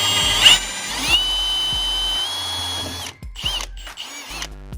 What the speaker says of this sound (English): So we are using a 1/8 of an inch drill bit for these because that's what it calls for.